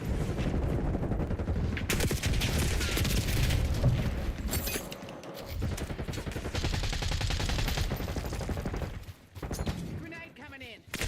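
Dense automatic gunfire and explosions in the shooter video game Black Ops 6, loud and nearly continuous bursts with booms, under intermittent player talk.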